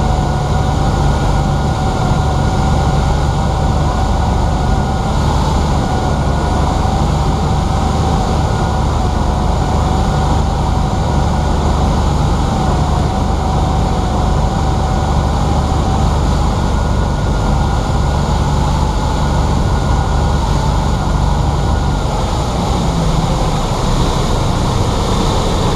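A Cessna 182 lands, its steady loud engine and propeller drone heard from inside the cockpit as a continuous roar with no break.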